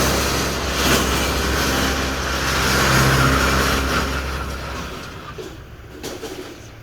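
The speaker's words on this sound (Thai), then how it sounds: "กระบะมิซูไซโคลน L200 ครับผม คันนี้" Engine of a Mitsubishi Cyclone L200 pickup truck running close by, a steady low rumble with mild rises in revs, loudest through the middle, then dropping off near the end.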